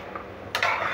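Tomato thokku pickle with onion and garlic stirred in a pan, a soft faint scrape followed by a brighter clink and scraping of a spoon against the metal pan.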